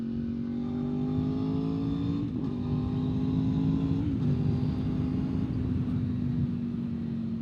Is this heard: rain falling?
no